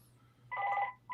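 A telephone rings during a live comics talk show, with one clear warbling ring burst in the middle and the start of a second at the end, set against a low steady hum and no talking.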